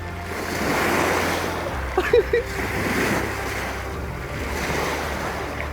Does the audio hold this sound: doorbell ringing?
no